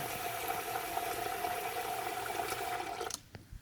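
Rice and quinoa being washed in water: a steady, close swishing and trickling of water through grains that runs continuously, then drops off abruptly near the end, leaving a few faint splashes.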